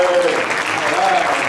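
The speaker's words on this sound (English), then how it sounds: "So how about a big round of applause for our lovely couple." A live comedy-show audience applauds an anniversary couple, with dense, loud clapping that fills the short moment, along with traces of voices in the crowd.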